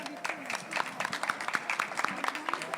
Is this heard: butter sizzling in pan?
no